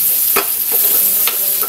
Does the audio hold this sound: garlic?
yes